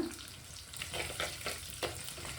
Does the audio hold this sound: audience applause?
no